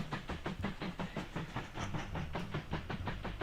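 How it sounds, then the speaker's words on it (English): Steam train chugging along in the game Mashinky: a steady, rapid rhythmic chuff with a rolling clickety-clack beneath it, faint and continuous, with no voices. "Cool looking train, right? Chugging right along."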